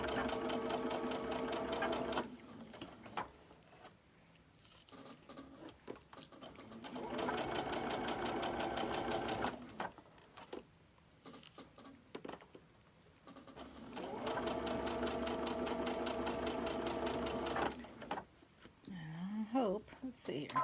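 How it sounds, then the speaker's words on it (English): Sewing machine stitching pieces of a quilt barn block, three long runs of fast even whirring stitches separated by pauses, close and clear, with a voice briefly audible near the end. "Now that you got it all pinned, sew it together."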